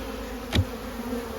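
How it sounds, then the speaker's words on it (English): Agitated honeybees buzz in an opened hive with a large brood nest, a steady low insect hum throughout, swelling briefly into a louder close pass near the middle. "I'm ticking off the bees because this is not the sort of day I should be opening it up."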